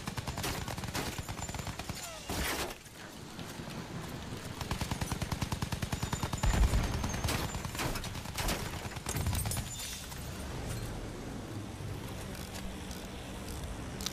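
Rapid automatic gunfire from an aircraft's machine guns in the video game Battlefield 1, loud and sustained bursts over continuous engine drone and battle noise throughout.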